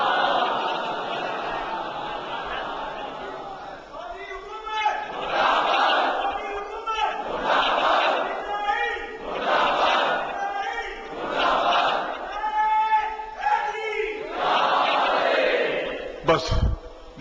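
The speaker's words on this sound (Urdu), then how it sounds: "ایک سلوات بھیج دیں بلند آواز۔" A protest gathering in Lucknow over Jannat al-Baqi, where a large crowd loudly recites salawat in unison as a series of repeated, rhythmic chanted phrases about two seconds apart, swelling and fading with each line.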